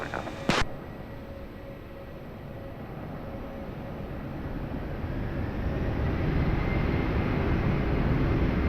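Airliner taking off at Lisbon Airport, a broad jet engine roar building steadily from moderate to loud over several seconds after a brief click, with no voices.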